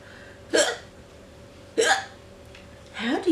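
A voice imitates a cat's hiccups in a children's story reading, three short sharp hiccup sounds spaced about a second apart, close and clear against a quiet background.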